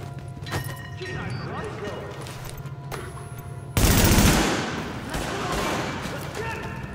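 Gunfire from a firefight in the video game Tom Clancy's The Division, with sustained shots and a loud burst of heavy fire midway over a constant game background, while people talk.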